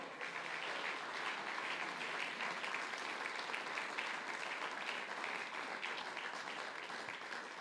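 Congregation clapping at a Spanish-language church men's congress, a continuous, even roar of applause from a large crowd lasting several seconds with no talk over it.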